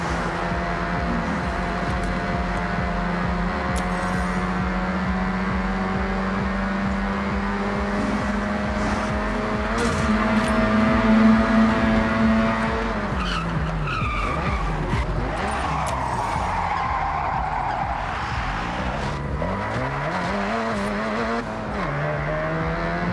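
A fully modded Mazda RX-7 in Forza Horizon holds a steady, loud, buzzy engine drone while its tires squeal in a long skid. Later the revs swoop up and down with more screeching, and no one speaks.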